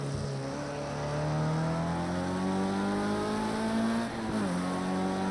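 A Formula Ford race car engine drones at full throttle on a sim racing circuit, a steady loud buzzing note climbing gradually, then briefly dipping and recovering as the car lifts and shifts.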